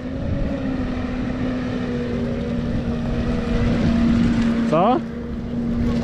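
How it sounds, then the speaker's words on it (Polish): A tractor driving slowly, pulling a compost turner, gives a steady low engine drone with a strong constant hum throughout; a voice speaks briefly and a short rising whine sweeps up near the end. "sprawdzimy, który ciągnik wolniej jedzie"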